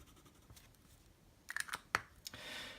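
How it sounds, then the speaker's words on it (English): A Lamy fountain pen with a broad nib scratches across notebook paper in quiet, close strokes, with scattered faint ticks and a longer soft scratch toward the end. "just do a little writing sample for you with a couple of different nibs"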